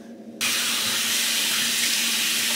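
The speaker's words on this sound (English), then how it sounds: "I've got to wash my face because cold water is going to keep me awake." Cold water gushes steadily from a bathroom sink tap, starting abruptly and running as a loud, close, continuous hiss with no talking.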